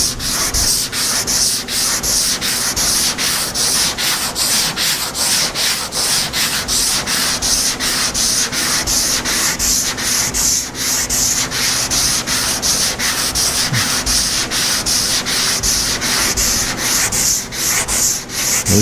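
Fresh paint on a 1952 Chevy hood is sanded by hand in steady, rapid back-and-forth strokes, a loud, close, continuous rasping rub with an even rhythm and no talk.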